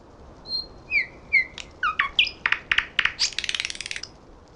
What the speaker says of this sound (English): all we have to do is pitch our phone recording up by 3 octaves.